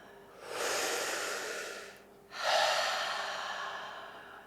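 Deep breaths during a breathing exercise: one long, slow inhale or exhale, a short pause, then a second long breath, close and soft with no talking.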